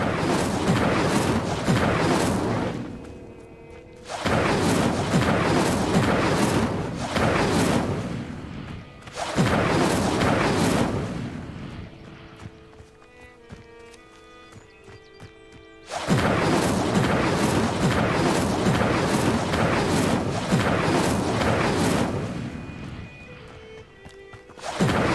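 Incendio fire spell cast again and again in Hogwarts Legacy: long, loud roaring whooshes of flame, each lasting a few seconds, separated by short, quieter gaps with faint game tones.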